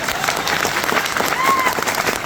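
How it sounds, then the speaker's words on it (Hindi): Seminar audience applause in a hall, a dense continuous burst of clapping with a faint whistle and crowd noise underneath. "तो जोरदार ताली होना चाहिए।"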